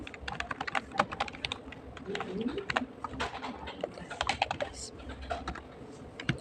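Computer keyboard keys clatter in quick, irregular bursts while shortcut keys are pressed to copy and paste data from SPSS into Word, with faint talk underneath.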